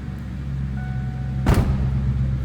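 A 1996 Ford Mustang GT V8 with a 5-speed manual idles with a steady low exhaust rumble heard from the rear, close and continuous, with a brief louder burst midway.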